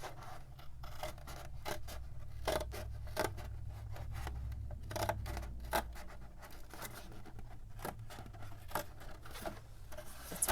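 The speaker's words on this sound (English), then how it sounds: "So I'm gonna cut this open very imperfectly." Paper or card being cut open by hand with scissors for a junk journal, giving a series of close, irregular snipping and rustling sounds with no talking.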